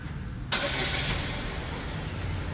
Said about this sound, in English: The speed of about 3 seconds, definitely will have your engine start right away.